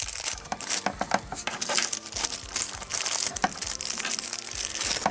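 Plastic Ziploc bags holding Transformers third-party Dr Wu Spike and Sparkplug toy figures are opened close up, giving dense continuous crinkling and crumpling with sharp rustles throughout.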